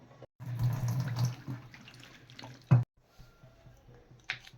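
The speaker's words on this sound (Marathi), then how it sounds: "आता मी या भेंडीला धुवून घेणार आहे फ्रेश पाण्याने." Okra rinsed under fresh tap water in a kitchen sink, a steady close splashing run with soft squishing of the pods, a brief louder splash near the middle, then a quieter trickle and drip.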